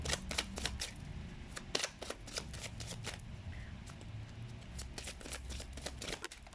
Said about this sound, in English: I keep on bumping my camera because I'm shuffling.